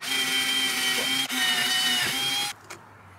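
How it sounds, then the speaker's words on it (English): A power drill boring a pilot hole through plywood into a metal van frame, a loud steady whining motor with a brief stutter midway, then stopping abruptly, followed by a short faint clunk. "I'm gonna drill a pilot hole through there"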